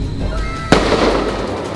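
A single loud firework blast bursts sharply, followed by a crackling, fizzing tail that lingers over a steady background hum.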